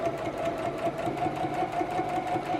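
A computerized sewing machine runs steadily as it stitches a quilt block, giving a close, continuous mechanical hum with a fast, even needle rattle and no talking.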